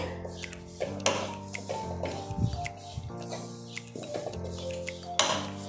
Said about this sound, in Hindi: लगभग टू टेबल स्पून घी और डालेंगे इसे भी मिक्स कर लेंगे